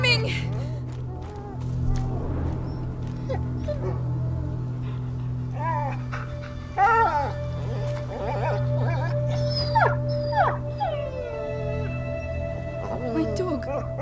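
A dog whimpering and howling in the video game A Plague Tale: Innocence, a run of high, wavering cries and yelps over a steady low game hum, with voices talking at times.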